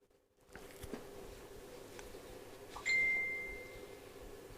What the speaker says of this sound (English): I can hear my phone pinging off here